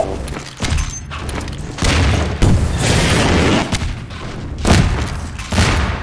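Repeated heavy blasts from grenades and rockets in Half-Life 2 Deathmatch, loud and close, several booming impacts spaced across the stretch with gunfire-like cracks between them.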